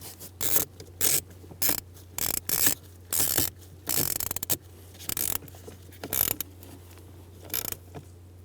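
A ratchet snugging down the blend door actuator bolts on the HVAC unit of a 1988-1999 GMC K1500, giving about a dozen rapid bursts of clicking pawl strokes separated by brief pauses over a low steady hum.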